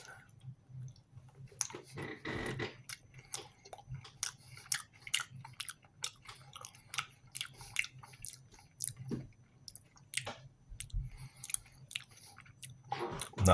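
Close, soft chewing of a soft gluten-free chocolate chip cookie, with irregular small clicks and moist mouth sounds repeating steadily throughout, no talking.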